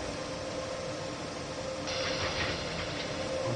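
A train in the Train Sim World 2 game rumbles steadily in a continuous dense wash of rail noise, with brighter rattling and clatter joining midway, moderately loud and alone without voices.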